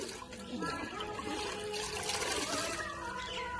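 Water splashing and trickling over a child during a bath at home, continuous close dribbling and splashing at moderate level, with voices faintly underneath.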